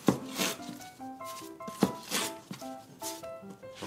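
A knife chops a large sailfish into single portions in steady, repeated cuts, each stroke a sharp thud on a board, close and fairly quiet.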